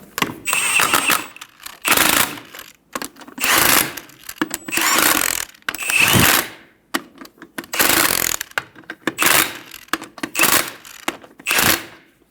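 Hand ratchet snugging lug nuts on a Ford Focus front wheel, a 2000-2007 model, with repeated short bursts of rapid clicking separated by brief pauses, close and fairly loud with no talking.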